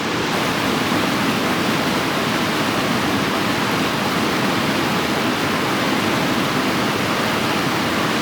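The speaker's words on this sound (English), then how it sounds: "Now it is very fast moving water." Fast-moving Colorado River water in the Grand Canyon gives a steady, loud, close rush of broadband roar that holds unbroken throughout, with no voices.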